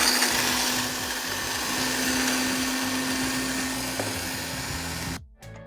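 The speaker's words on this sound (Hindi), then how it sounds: "ये हमारा बिहारी कबाब मसाला, इसको थोड़ा सा पीसना है। तो इसकी पिसाई शुरू।" An electric grinder runs at full speed on Bihari kebab masala spices, roasted chana and whole coriander among them, making a loud, steady, close whirring roar that holds for about five seconds and then cuts off abruptly.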